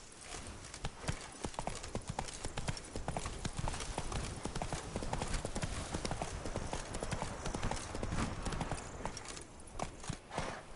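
Roach, a horse in The Witcher 3 video game, gallops with a dense, continuous clip-clop of hooves that is quite faint in the mix.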